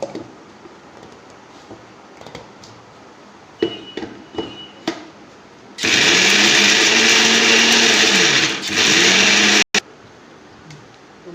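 A kitchen blender grinds cooled roasted black pepper, cumin and dried red chillies in one loud, steady burst lasting several seconds. It cuts off abruptly, after a few light clicks and taps beforehand.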